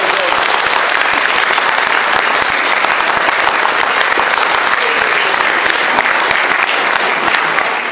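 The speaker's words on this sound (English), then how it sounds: "Can we give the nursery children a big round of applause" Audience at a primary school KS1 nativity applauds the nursery children, a dense, loud, steady wash of clapping from many hands that runs unbroken throughout, with faint voices mixed in.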